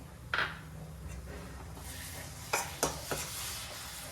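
Brinjal (eggplant) curry in the North Karnataka oil style fries quietly in a pan, with a soft steady sizzle broken by a few scraping stirs of a spoon.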